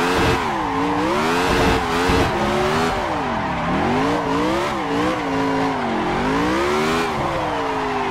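A car drifts with its tires sliding, giving a loud, continuous squeal that wavers up and down in pitch over a rough engine roar, with no talking.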